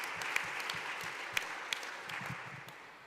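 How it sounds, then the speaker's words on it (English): Audience applause at the MIT Portugal 2021 Annual Conference for past and present program students: a steady, moderately distant patter of clapping from a seated crowd, with a few sharper claps standing out, and no voices. "I'd like to give a round of applause"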